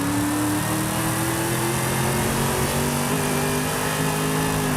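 A 1,000-horsepower Camaro drag car in Forza Horizon 5 holds a loud, steady engine roar with a slowly rising pitch, sustained and alone without talk.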